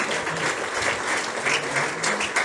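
An audience at a Brahma Kumaris Diwali celebration in Ambala Cantt claps continuously to welcome a guest, a dense, steady wash of applause that stays loud throughout.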